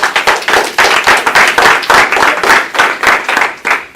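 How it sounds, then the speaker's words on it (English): An audience at an evening event claps in brisk, dense applause, sharp hand claps rattling rapidly and loudly throughout with no talk over them. "Give everybody an applause who's joining tonight."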